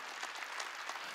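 A church congregation applauding during a sermon: a steady, dense wash of many hands clapping throughout the short stretch, with no speech over it.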